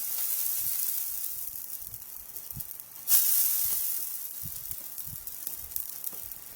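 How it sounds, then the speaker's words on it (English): Water sprinkled onto a hot pan before making thick martabak manis pancakes hisses and sizzles up close, with a sharp burst of crackling midway that slowly tapers into softer frying hiss and scattered pops. "When the water sizzles like that, we know that the pan is hot enough."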